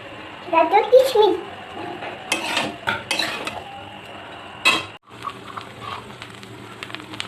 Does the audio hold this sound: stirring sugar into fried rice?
yes